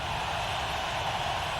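Steady roar of a packed stadium crowd at a 1999 NFL AFC Championship game, Tennessee Titans at Jacksonville Jaguars, as a continuous loud wash of noise with no distinct voices.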